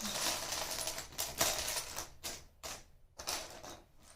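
Loose LEGO pieces are shuffled around during a build of the LEGO Chima Lion CHI Temple set 70010, a close, fairly quiet, uneven clatter of small plastic parts in short rattling bursts, with no talking.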